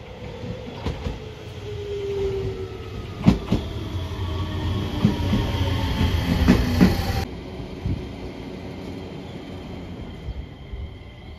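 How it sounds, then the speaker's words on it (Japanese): A JR Shikoku 7000 series one-man local train on the Yosan Line pulls into a small Ehime station, wheels rumbling and clicking over rail joints with faint squeals before the noise drops off abruptly. "7000系の普通列車が来ました。"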